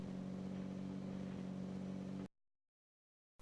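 A car driven around Hobo Village in the video game Hobo Nights gives a steady, loud engine drone with a low hum for about two seconds, then cuts off to near silence.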